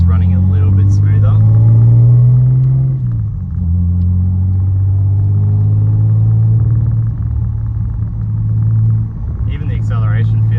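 Car driving on the road after a catch can install, a steady low engine rumble and road drone throughout with slight shifts in pitch as it cruises, close and loud inside the cabin.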